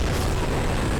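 Dragon breathing fire in Dark Souls 3, a loud, steady broadband roar and rush of flame lasting the whole second, dense and continuous with no voices over it.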